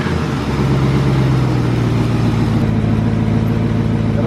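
A junkyard replacement engine in a BMW 3 Series running loud and close after starting, a rough steady drone with a low throbbing idle that holds constant throughout.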